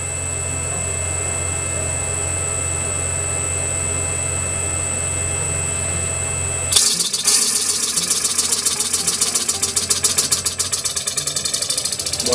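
Faceting machine cutting a hard ruby oval stone: a steady motor hum with a high whine, then a sudden rattling, grinding contact noise for the remaining half, close and without speech.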